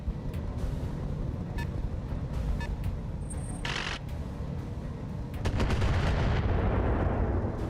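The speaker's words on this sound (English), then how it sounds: "that's fire coming in on the Rifleman" Weapons fire hitting a mech in the BattleTech game, a dense rumbling barrage with sharp cracking impacts over a loud continuous roar that swells near the end.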